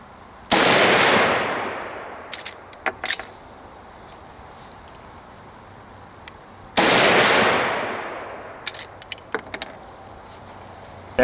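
A rifle fires two supersonic rounds about six seconds apart, each a loud, sharp crack followed by a long, fading echo and then a quick series of metallic clicks from working the action. No one speaks.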